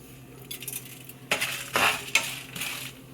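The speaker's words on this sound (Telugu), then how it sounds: "ఇప్పుడు జీలకర్ర యాడ్ చేస్తున్నాను" Cumin seeds go into a hot pan while flaxseed powder is prepared, giving a few scattered bursts of scraping, stirring and light sizzling over quiet kitchen background, with no voices.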